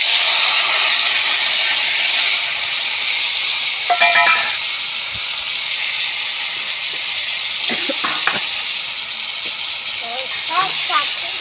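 Spice paste of onion, ginger, cumin, garlic, coriander, tomato and Kashmiri chilli sizzling in hot oil, a steady close hiss running throughout with a few brief clinks from a utensil.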